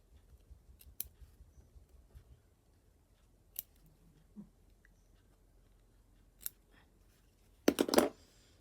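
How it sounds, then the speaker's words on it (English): Scissors snip the ends of fabric in a quiet room, with a few sharp, close cuts spread over several seconds and a quick double snip at the end. "I'm just going to do a little snip in here"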